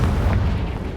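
A Confringo spell explosion in the video game Hogwarts Legacy, heard as a dense, low, rumbling boom that fills the whole moment at steady loudness, alone without talk.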